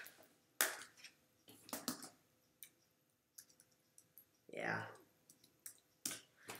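Sharp keyboard key clicks come in irregular bursts from a computer keyboard during a Roblox gaming session, fairly close, with brief pauses and some light speech-like sounds between the clusters.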